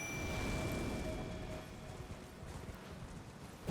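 Horse hooves clip-clop in the video game Elden Ring, a faint, steady run of soft rhythmic hoofbeats under a low background wash, with no speech.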